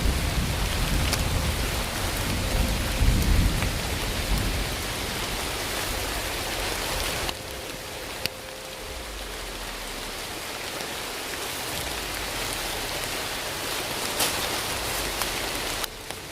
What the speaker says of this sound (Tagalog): Sobrang lakas ng ulan po dito.